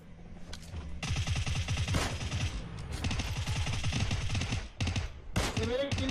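Rapid automatic gunfire in the PUBG Mobile battle royale game, dense bursts of shots rattling steadily for several seconds, loud and close, with voices talking over the firing.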